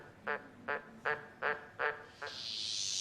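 A frog calling in five evenly spaced, nasal croaks, fairly close, followed by a rising airy hiss.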